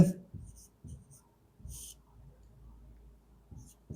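Pen writing on paper during a Class 10 maths lesson on polynomials, soft scratchy strokes in short bursts heard close under someone speaking.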